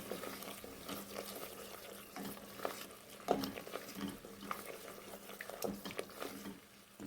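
A spoon works through a yogurt mixture frying in a pan, giving a soft steady sizzle with faint intermittent scraping and light clinks, fairly quiet and without talk.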